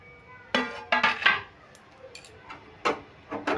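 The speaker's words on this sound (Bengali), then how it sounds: "এবার আমি এই ঢাকাটা খুলে নিচ্ছি" A metal pot lid comes off a pan of cooking syrup for semolina chomchom sweets, giving a few sharp clinks and clanks in quick clusters, then scattered softer taps, close by with no talk.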